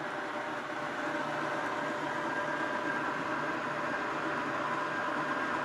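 A model TGV high-speed train runs on a rolling road test stand, giving a steady, even whirring rumble with no breaks, moderately quiet and close.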